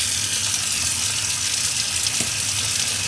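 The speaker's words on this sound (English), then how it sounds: "And that water will just filter on through." Water filtering through during an alum synthesis lab under vacuum, a steady loud hiss and rush of liquid that continues evenly throughout, with no talk.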